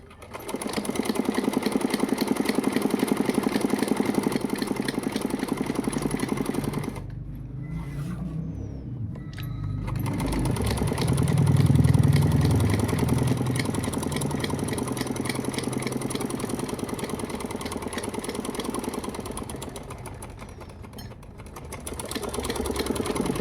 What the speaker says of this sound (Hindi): अब हम इसकी फिटिंग पर सिलाई करेंगे इस तरह से